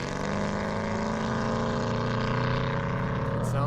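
A BMW 7 Series engine plays back on a replay, giving a loud, steady, throaty drone with a low rumble and layered tones that hold constant throughout.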